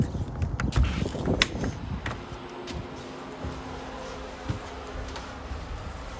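A hand crank turns the stabilizer jacks on a 2023 inTech Sol Dawn travel trailer, giving close creaking, ratcheting mechanical clicks, busiest at first and then thinning into quieter intermittent turns.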